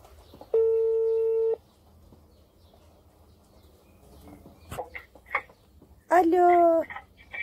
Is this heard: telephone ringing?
yes